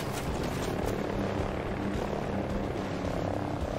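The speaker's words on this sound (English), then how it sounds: "I'm bringing a chopper to you." Helicopter flying in a video game, a loud, dense, unbroken rotor and engine roar filling the whole few seconds with no talk.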